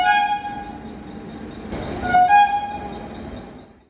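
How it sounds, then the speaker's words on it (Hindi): A train horn honks at a railway station on the route to Matheran, two loud sustained toots with a short gap between them, over a rumbling station background. "इसका हॉर्न देखिए कैसे बजा रहा है ये"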